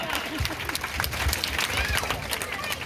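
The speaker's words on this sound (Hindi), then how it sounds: "नेताजी के लिए जोरदार तालियां।" Audience clapping during a school play at G G S Public School, a short burst of applause with scattered claps and crowd noise, fairly close, with voices partly over it.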